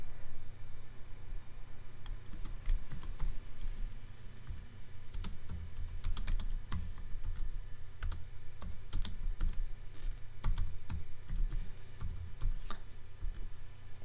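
Someone types text on a computer keyboard, producing quiet, irregular bursts of key clicks and taps at close range with a faint steady background hum.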